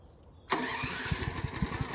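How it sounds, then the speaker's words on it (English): A portable generator cranks briefly, then fires and catches on choke, settling into a loud, close engine run with a pulsing rhythm. No one speaks. "Go ahead, hold it in and let it crank and then slowly pull the choke lever towards you."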